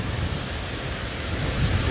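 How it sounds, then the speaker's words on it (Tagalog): Light rain falls steadily as an even, close hiss over a low rumble, on a rainy day with flooded roads, with no voices. "Mahina pa lang tong ulan na to."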